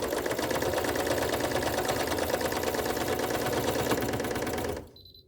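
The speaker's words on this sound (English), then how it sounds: "Putting my presser foot down, lowering my needle, back stitching, and then going forward." A sewing machine stitches an oven mitt at a fast, even, rattling pace, running loud and close for nearly five seconds before it stops abruptly.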